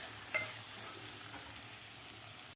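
Ginger-garlic paste sautéing in a kadhai over a low flame gives a steady, close sizzle, with a few faint spoon clicks from stirring. No one speaks, and the sound cuts off at the very end.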